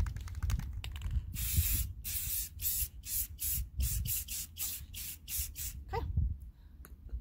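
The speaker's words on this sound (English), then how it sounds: "I'm going to spray a little bit away" Repeated short hissing bursts of an aerosol can spraying clear coat, a dozen or so quick sprays in an uneven rhythm, close up.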